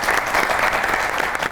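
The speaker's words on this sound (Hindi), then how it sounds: "बहुत सी तालियां होनी चाहिए हीर खान के लिए" A short burst of dense, steady studio audience applause on a comedy show, many hands clapping together at a fairly even level.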